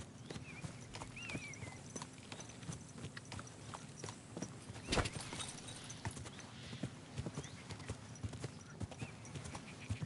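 Horse hooves in the video game Kingdom Come Deliverance 2 clip-clop in a steady walking rhythm for about ten seconds, faint and close, with a brief louder thump midway and no talk.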